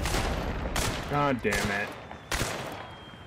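Gunshots in a PC shooter game ring out as a few sharp, loud bursts spaced across a few seconds, with a man swearing between them.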